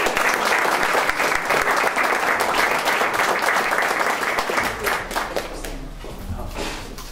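School audience at a heads' forum applauding loudly and steadily for several seconds, a dense crowd of clapping that thins slightly toward the end.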